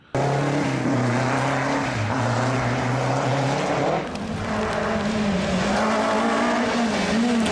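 A Renault Clio rally hot hatch engine roars loud and close at sustained high revs, dipping briefly before climbing again, alone without talk.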